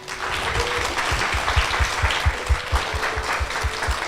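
A crowd at a live podcast recording applauds steadily, with dense close claps and a regular thumping rhythm throughout.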